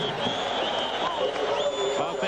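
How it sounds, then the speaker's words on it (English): Stadium crowd at the 1982 Rose Bowl, Washington versus Iowa, keeps up a steady roar of cheering and applause. The sound is continuous and fairly loud, with a commentator's voice talking over it. "Crowd has lost none of its enthusiasm."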